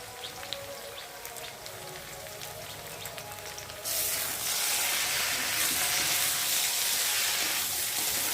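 Potatoes with salt, turmeric and chili powder frying in a pan for a fish curry: a quieter crackle with stirring taps, then a louder, denser sizzle takes over midway and holds.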